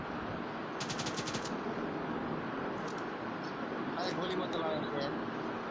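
A quick burst of rapid automatic gunfire in PUBG Mobile, then scattered fainter shots over a steady background hum, with a voice talking throughout.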